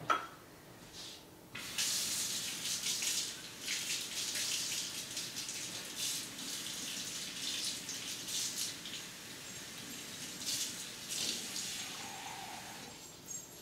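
Warm water runs from a kitchen tap for dissolving yeast for pretzel dough, a steady splashing hiss that starts after a short pause and continues at moderate volume.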